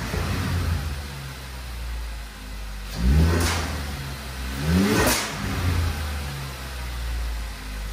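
A Ford Focus ST engine fitted with a Tial blow-off valve and CP-E Exhale kit revs up twice, each rise ending in a sharp whoosh, over a steady running drone.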